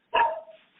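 A single sharp dog bark rings out close and clear, then fades over a brief tail into quiet.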